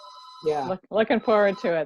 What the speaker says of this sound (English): So sorry about the phone. That's my house phone.